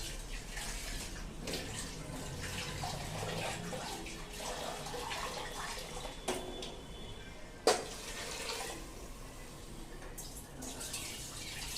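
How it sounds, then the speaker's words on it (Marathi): Water pours into a cooking pot for Khandeshi masala khichdi in a continuous splashing stream lasting the whole stretch, fairly close, with a brief louder splash near the end. "तर मग आपण याच्यामध्ये पाणी घालूया."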